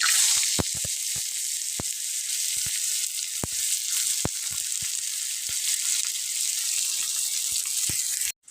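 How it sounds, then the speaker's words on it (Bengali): Onions and green chillies sizzle steadily in hot oil after cumin, bay leaf and dried chilli, a constant close frying hiss broken by occasional sharp pops and spatters, with no voices. "পেঁয়াজ আর কাঁচামরিচ অল্প একটু ভাজার পরে লাল লাল অল্প একটু লাল লাল হবে"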